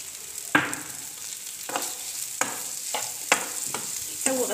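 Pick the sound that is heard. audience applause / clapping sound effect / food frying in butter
food frying in butter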